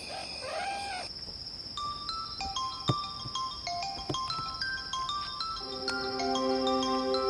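A phone ringtone plays a bright electronic melody of stepped beeping tones, looping steadily and fairly loud, after a short crowing-like call at the start.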